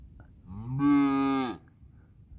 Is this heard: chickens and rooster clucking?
no